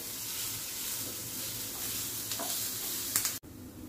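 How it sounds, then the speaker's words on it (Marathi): Onion fries in a pan over a medium flame until browned, a steady dense sizzle with a few light scrapes of stirring toward the end, then an abrupt cut, no speech. "हा कांदा आपल्याला एकदम लाल होईपर्यंत आपण भाजून घेऊ"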